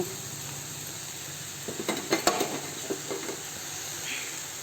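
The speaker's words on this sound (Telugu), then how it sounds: "ఒక నిమిషం పాటు ఇట్లా కలబెట్టాలి" Goat kurma with soaked chickpeas stirred in a hot pan, a steady sizzle with a cluster of sharp spoon scrapes and knocks against the metal in the middle, then settling back to a quieter hiss.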